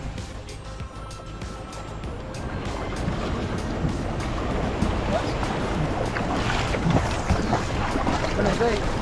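A boat motoring across open ocean water near Cabo San Lucas, Mexico, with steady engine drone, wind buffeting the microphone, and waves splashing against the hull throughout.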